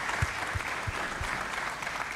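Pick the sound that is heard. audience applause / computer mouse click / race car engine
audience applause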